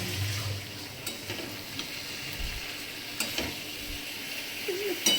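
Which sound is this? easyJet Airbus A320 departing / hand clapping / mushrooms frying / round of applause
mushrooms frying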